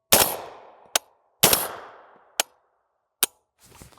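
Rifle shots through a SilencerCo Omega 9K suppressor into the dirt outdoors: two loud, sharp reports with ringing tails, separated by crisp metallic clicks, then a softer scuffing rattle at the end.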